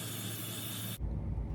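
Hairspray misted onto a strand of hair from the back of a ponytail, a steady close hiss lasting about a second before stopping abruptly.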